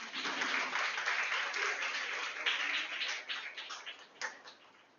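An audience at a girls' college event claps in dense, sustained applause that fills the room, then gradually thins and fades over about five seconds.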